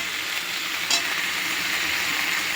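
Fried vegetables for sukto being sautéed with poppy and mustard seeds in a pan, a close, steady sizzle with one brief scrape of the spatula, no talking.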